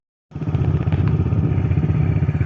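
A warmed-up Yamaha TTR110 dirt bike engine starts after a brief silence and settles into a loud, steady, close single-cylinder idle with an even, rapid putter.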